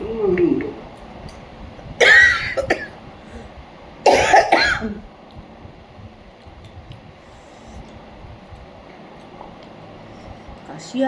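Two clusters of harsh, close coughs, each a quick series of bursts, separated by a quiet pause, with a low background hum.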